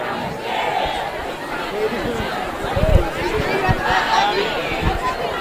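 Auburn basketball fans gather outdoors and wait for the team buses, making a steady murmur of crowd chatter with scattered shouts and footsteps. A few louder whoops rise near the middle.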